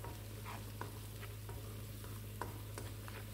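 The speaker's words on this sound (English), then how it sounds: "Just stir fry the vegetable." Vegetables with ginger and garlic stir-fried on low heat, a steady soft sizzle running throughout with occasional light scrapes of the spatula, quiet and close.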